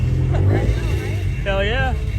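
Subaru WRX STI with a stock engine launching in a drag race, a loud engine roar with a rising rev sweep near the end, heard close against the low rumble of the strip.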